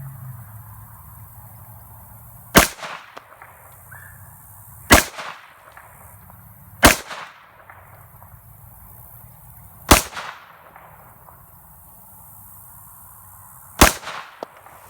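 Five loud, sharp 9mm pistol shots from a Kimber 1911 firing Hornady 115-grain HAP reloads, spaced two to four seconds apart, each with a brief echoing tail over quiet outdoor background.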